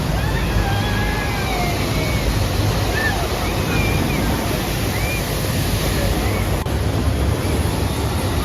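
Loud, steady rush and slosh of water on the Infinity Falls water ride at SeaWorld Orlando, a dense continuous roar with wind buffeting the microphone throughout and no break.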